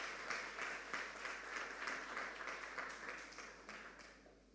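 Round of applause at a school quiz competition, a dense crowd clapping that stays strong then slowly fades toward the end.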